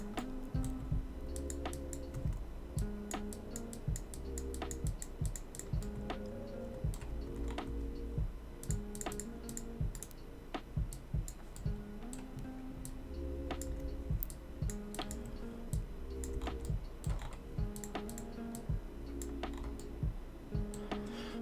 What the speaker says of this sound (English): I'm using like an Apple keyboard just because mechanical is super loud